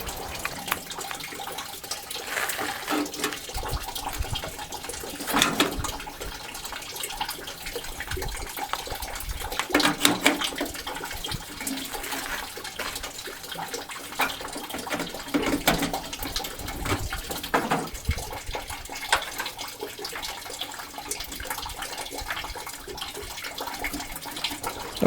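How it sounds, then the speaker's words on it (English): Radiator fluid drains from a 1968 Ford F250 pickup truck, a continuous trickling, splashing flow of liquid with faint irregular clinks, fairly quiet and steady with no talking. "Radiator fluid is drained."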